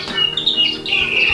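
A cucak cungkok songbird calls at close range, giving loud, bright, whistled phrases that rise and fall in quick succession over a short burst.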